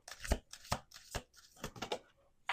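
A few quick papery riffles and taps, close and fairly quiet, like a deck being shuffled in short bursts.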